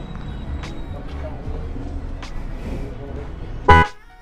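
A G-Star motorcycle horn on a scooter gives one short, loud blast near the end, after a stretch of steady background street and engine noise.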